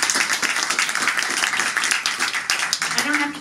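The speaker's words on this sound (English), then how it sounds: "Please, another round of applause for Joshua Seftel." Audience at an interfaith awards ceremony clapping in a round of applause, a dense patter of many hands close by, steady for a few seconds.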